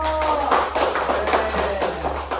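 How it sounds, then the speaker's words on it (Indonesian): A short burst of scattered hand clapping from a small classroom group, steady and close, with faint voices underneath. "Tepuk tangan dong buat Nino."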